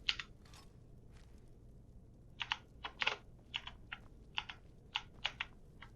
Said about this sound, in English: Oh, these keys are so satisfying to hear that nice hard click.